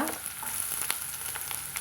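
Steady sizzling and crackling of green chilies and onion frying in a hot pan, with a few brief stirring clicks, fairly close and continuous.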